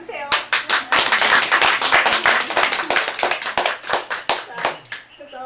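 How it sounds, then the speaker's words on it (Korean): A live audience claps together at a literary talk concert, dense applause with sharp individual hand claps running steadily for several seconds before tapering off near the end. "박수 한번 쳐주세요."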